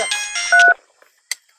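A phone ringtone plays a short, loud melodic pattern of bright tones and then breaks off, leaving near silence except for one brief clipped tone afterward.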